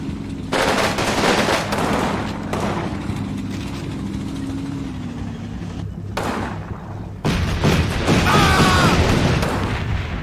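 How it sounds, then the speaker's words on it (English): A 20 mm flak gun firing in the Combat Mission: Rome to Victory video game, with loud sustained automatic bursts and booming gunfire across the whole stretch, broken by brief pauses. "there's a 20 mil flak in here"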